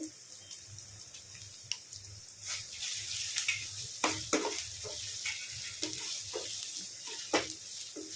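Curry leaves and ginger garlic paste frying in a pan for egg tikka masala curry, a steady faint sizzle with occasional stirring scrapes and clinks, growing slightly busier midway.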